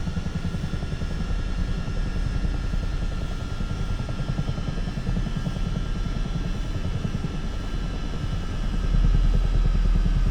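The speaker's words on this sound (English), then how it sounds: "I'm gonna come crashing down now because the engine is powering down." Simulated Airbus H125 helicopter in Microsoft Flight Simulator 2024 as its engine powers down, a continuous near rotor chop and low engine drone with fast regular pulses, swelling slightly louder near the end, no talking.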